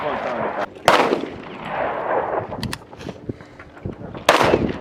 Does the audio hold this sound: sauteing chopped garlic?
no